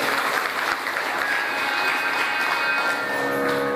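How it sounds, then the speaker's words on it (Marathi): An audience at a Shiva Katha religious music event in Ausa claps loudly and continuously, a dense, sustained burst of applause with faint crowd murmur. "एकदम जोरदार टाळ्या त्यांच्यासाठी बनते."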